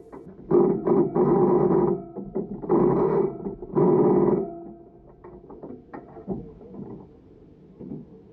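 A ratchet clicks in quick bursts as engine bolts are loosened on a race car, the short rattling runs coming close and fairly loud with quieter tool handling between them.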